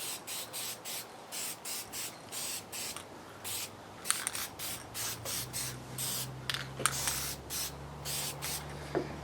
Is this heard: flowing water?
no